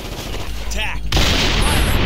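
Heavy gunfire and explosions from Ghost Recon Advanced Warfighter erupt in a dense, loud barrage that swells sharply midway, with a voice heard briefly beforehand.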